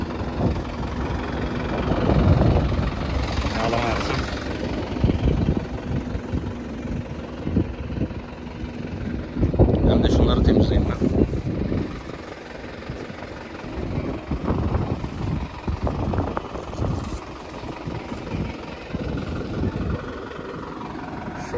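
A tractor engine idles steadily in a field with a low continuous rumble, loud and close, with some wind buffeting the microphone and a few rising surges in the engine note.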